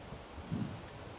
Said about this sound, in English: Crazy wind, huh?